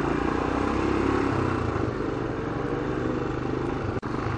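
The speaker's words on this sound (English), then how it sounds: "My friend Ashwin rides a two-stroke Yamaha 100 RX or something similar" A two-stroke Yamaha RX 100 motorcycle engine running steadily, a dense rough buzzing drone heard up close on a dusty, potholed city street, with one brief dropout near the end and no talking.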